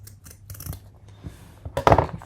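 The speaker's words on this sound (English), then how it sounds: "Scissors here, we're going to kind of cut this at an angle." Scissors make a few quiet, close snips as they cut a cord at an angle while a model rocket's recovery system is assembled.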